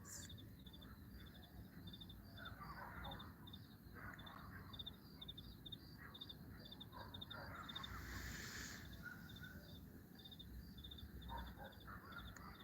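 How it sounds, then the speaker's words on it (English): Crickets chirp in rapid, regular pulses from a short distance, steady and faint against a quiet night background, with no talking. "Real crickets."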